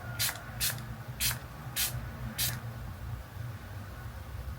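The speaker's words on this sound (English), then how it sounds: "So I'm just gonna spray it now that all of my cream is like together." Five short bursts of a makeup setting spray bottle hiss in quick succession, close by, followed by quiet background.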